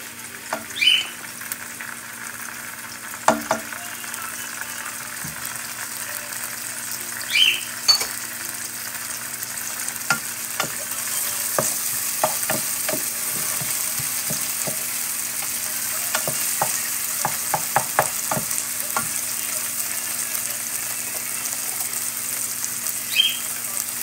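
Garlic fries in a pot as the base for a squash locro, a continuous soft sizzle with occasional stirring scrapes and light crackles, close and steady with no talk.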